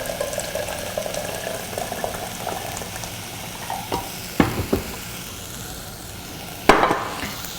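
Vegetarian Mexican mole sauce simmering in a pan after hot water is added, a steady soft bubbling and sizzle with a few louder clinks and stirring knocks.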